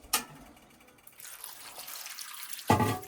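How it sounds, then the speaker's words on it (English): Water pours from a tea kettle into a pot of onions, heard as a faint splashing trickle in short bursts between quiet gaps, close by in a kitchen. "we're going to add some water"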